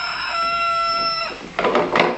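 A voice imitates a rooster crowing, a single drawn-out tonal call lasting over a second, followed by a couple of short, louder bursts from the child.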